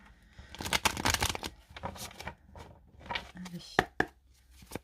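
A tarot deck is cut and shuffled in quick riffling, papery bursts, fairly close but soft, with a few sharper taps of cards near the end and quiet talk mixed in.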